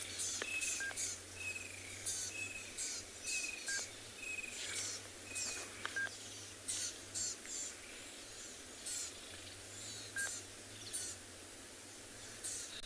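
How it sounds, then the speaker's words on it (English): Scattered bird calls and chirps ring out repeatedly at sunrise over a steady low rumble from a nearby vehicle and a constant insect-like hiss, with short whistled notes recurring throughout. "you can probably also hear a lot of birds calling."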